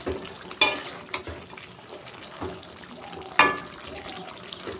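Pumpkin greens simmering in water in a pan get a light stir, with scraping and clattering spoon strokes, two sharper clinks, and a faint bubbling hiss underneath.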